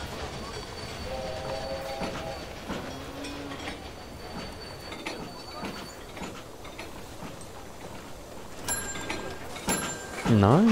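A train rolls along rails in the railway management game Railway Empire, steady rumbling and clicking with brief tonal whistles and a rising squeal near the end, while someone talks over it.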